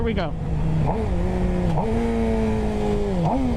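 A Suzuki GSXR 750 motorcycle engine revs through downshifts while braking with the front brake, each shift marked by a brief rising blip before the pitch settles lower, close and steady, with someone speaking briefly at the start.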